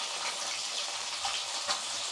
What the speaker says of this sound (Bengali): কই মাছগুলো ভাজা হচ্ছে